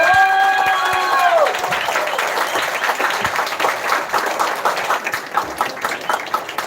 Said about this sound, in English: I think our teachers deserve a bigger round of applause.